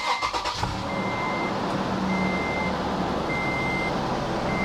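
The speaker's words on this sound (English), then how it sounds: "I'm going to go ahead and start the truck up" A 2006 Toyota Tundra with a 4.0L V6 cranks briefly and then idles loudly and steadily close by, with a repeating electronic beep chiming over the engine drone.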